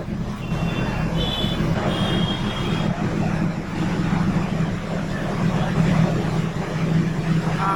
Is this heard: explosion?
no